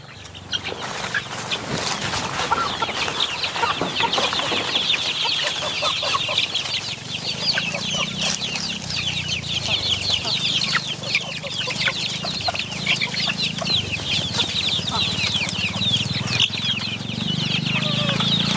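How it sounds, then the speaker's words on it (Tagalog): Native chickens kept together in a cage pen cluck continuously, a dense, steady chorus of overlapping calls from many birds, close and fairly loud throughout with no talking. "itong mga native chicken na natin na nandito sa loob ng cage na to"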